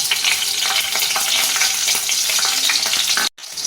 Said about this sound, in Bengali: আমি প্রথমে একটা কড়াইতে দু চামচে তেল গরম করে নিলাম দিয়ে তার মধ্যে দেব কাঁচা লঙ্কা